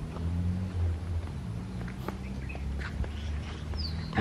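Faint chicken calls on a Samoan island, a few short clucks and one rising squawk scattered over low outdoor rumble and background noise.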